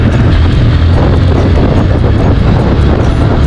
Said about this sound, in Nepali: हावा यति जोरले चलिरहेछ गाइज